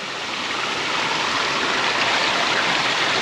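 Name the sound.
running water from a mountain spring in Spili, Crete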